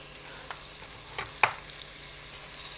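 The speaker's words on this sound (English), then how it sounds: "Give this a stir." Onions and zucchini are stirred in a pot for a low-carb rustic chicken soup, giving a few soft, separate scrapes and knocks over a faint, low sizzle.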